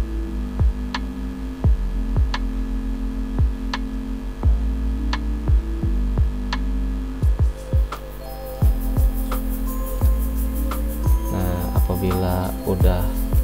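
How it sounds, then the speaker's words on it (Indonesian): An electric mixer runs at low speed, beating batter for kue cubit with a steady motor hum and a rhythmic ticking of the beaters against the bowl, with no talk. "Kemudian kita aduk lagi menggunakan mixer dengan kecepatan rendah."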